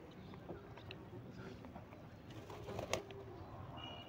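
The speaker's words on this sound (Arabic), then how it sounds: "عايزين نفتح بقى على الحمام برضو يطلع" Pigeons cooing inside a loft as the coop is opened for release after a week shut in, soft repeated coos and wing flutters over a steady low background, with a sharp brief bump near the end.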